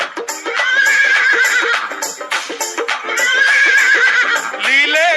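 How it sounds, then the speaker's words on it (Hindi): A horse neighs loudly and close in repeated whinnies, a sound effect played at a devotional song gathering, with a final rising whinny at the end and crowd ambience underneath. "एक बार नीले घोड़े की आवाज आए आपकी तालियों के साथ"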